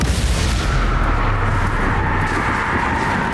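Bombarda blasting spell going off in Hogwarts Legacy, a continuous roaring blast with deep rumbling low end, loud and sustained throughout without any voices.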